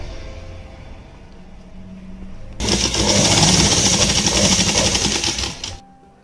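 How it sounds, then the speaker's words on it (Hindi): A sewing machine stitching a kurti sleeve starts partway through with a fast, loud, close mechanical rattle that runs steadily for about three seconds and then stops, after a quieter stretch of room noise. "अब इसके ऊपर हम एक दाब सिलाई और लगा देंगे यहाँ से"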